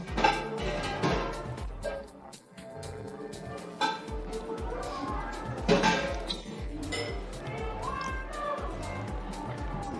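A fork repeatedly clinks and taps against a raclette bowl of melted cheese. The bright metallic pings are close and scattered irregularly, with some talking mixed in.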